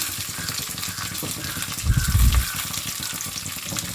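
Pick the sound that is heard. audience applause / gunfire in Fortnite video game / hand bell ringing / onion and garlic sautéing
onion and garlic sautéing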